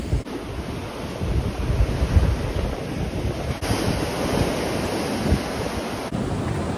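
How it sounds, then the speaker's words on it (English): Strong wind buffets the microphone over a steady roar of surf at a beach in Hua Hin, Thailand, with waves washing continuously close by and no voices. "Look, it's proper like waves and windy."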